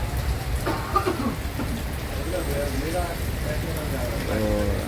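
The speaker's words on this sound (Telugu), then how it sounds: "వర్షం అనేది ఇంకా ఆగలేదండి అప్పటి నుండి పడుతూనే ఉంది" Rain falls steadily at Varkala bus stand, a dense continuous hiss and patter under passing traffic and a distant voice, moderately loud throughout.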